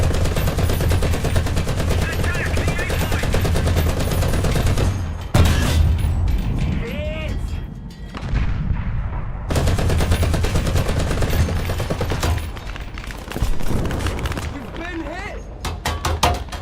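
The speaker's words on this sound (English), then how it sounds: "Your machine gun can't do anything to me." Sustained machine gun fire in the War Thunder video game, loud rapid bursts running almost continuously with brief pauses, joined by heavy booms and mechanical clatter, while someone talks over it.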